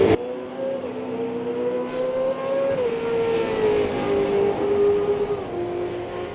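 Race cars on the Adelaide 500 street circuit roar loud and close, a steady engine note rising and shifting pitch as the cars pass, with no talk over it.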